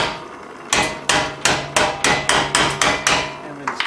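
Sharp metal blows ring out as a hammer knocks a rocker panel on a 1999 GMC Sonoma / Chevy S10 pickup back into place, about a dozen close, loud strikes in a steady, slightly quickening rhythm with no talking.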